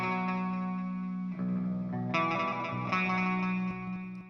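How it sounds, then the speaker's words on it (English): Sustained music mix with a stereo delay set to triplet timing, distorted tones repeating in echoing trails that swell and shift across the phrase. "we've got a stereo effect going on"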